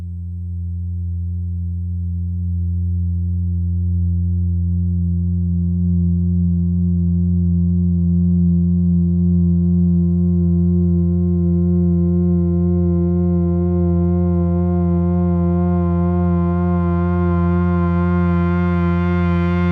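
A custom synth pad sample, a sustained harmonic electronic tone, holds steady and loud for about twenty seconds, gradually brightening as upper overtones open up, with no voices.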